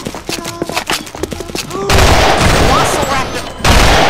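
Gunfire in the co-op video game Sven Co-op aimed at a velociraptor: scattered sharp shots and clanks at first, then a dense, loud burst of rapid fire that briefly stops and starts again.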